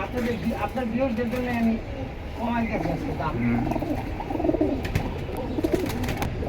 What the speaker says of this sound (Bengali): দর্শক এই যে দেখেন ছয় কবুতর